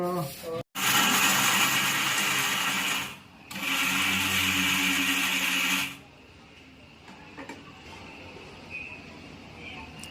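A mixer grinder grinds flour for laddu with a loud, steady whir that pauses briefly, starts again, then cuts off, leaving quieter room sound.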